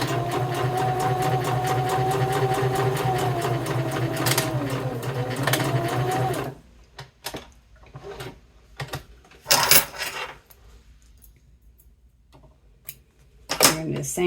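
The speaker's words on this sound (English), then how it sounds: "sew straight across. I like to do a couple stitches before and after the pocket" A sewing machine stitches across a leather wallet pocket in a rapid, loud, steady mechanical whir for about six seconds, then stops, followed by quieter clicks and handling sounds.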